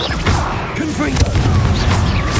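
A Confringo blasting spell from Hogwarts Legacy detonates as a loud, dense burst of explosive booms and crackling debris, layered with game effects and a voice shouting.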